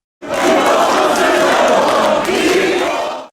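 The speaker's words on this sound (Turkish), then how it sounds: "polis kontrolünde yürüyen grup, hükümet karşıtı sloganlar attı" A street protest march under police escort, with the crowd chanting anti-government slogans in unison, loud and close, as a continuous roar of many voices.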